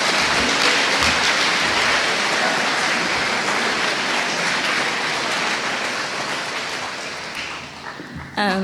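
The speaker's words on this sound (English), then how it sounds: "I really want you to just give them applause" A high school awards ceremony audience gives dense, sustained applause that stays loud for several seconds, then thins and fades before a voice starts at the very end.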